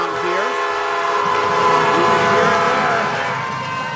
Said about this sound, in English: Ware County said this is a big game, so they brought the train horn with them